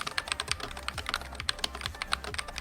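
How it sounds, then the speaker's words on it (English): Fast typing on a gaming keyboard with magnetic Hall effect switches, a quick irregular run of sharp clacky keystrokes close up, with no talking. "But let's put this gaming keyboard through a sound test."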